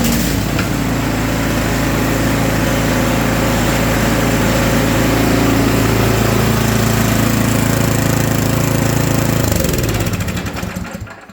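A small pull-start engine runs loud and close with a rough, steady rattling drone, then cuts out and winds down to quiet at the very end.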